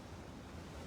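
Surging ocean waves of a rough, stormy sea in the visual novel Umineko, a brief, dense, low roar of surf and wind without clear breaks, faint and distant.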